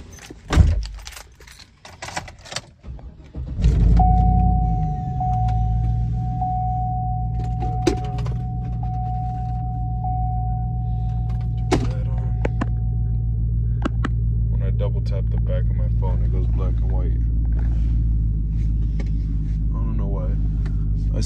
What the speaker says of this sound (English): Let me start this truck up real quick.